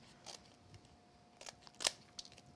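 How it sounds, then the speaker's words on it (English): Scissors cutting around a paper focal element for a handmade card: a few soft, separate snips spaced out over quiet room tone, with one sharper cut standing out, no talking. "keep your scissors at an angle so you don't cut your focal element."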